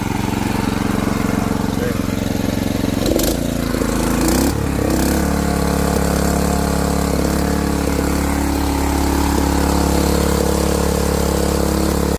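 A power tiller engine, troubled by ethanol-blended fuel, runs loud and close with a constant low throbbing drone, a brief clatter and shift partway through, then settles into a steady run.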